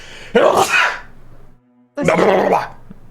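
Two loud, close sneezes from a person, each a sharp burst followed by a fading breath, separated by a brief pause.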